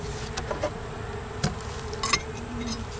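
Honeybees at an open beehive in winter, a faint steady buzz with occasional louder passes of bees flying near, plus a few soft knocks of handling.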